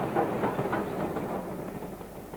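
A heritage railway train on the East Lancashire Railway rumbles along at a steady pace with faint rhythmic clatter from the wheels, heard from inside or close by at moderate volume.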